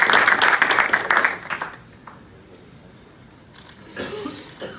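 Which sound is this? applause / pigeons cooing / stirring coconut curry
applause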